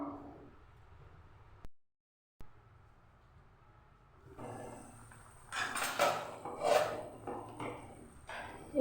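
A metal lid clatters onto a cooking pot of chicken curry with eggs, bringing a quick run of faint clinks and knocks after a quiet stretch.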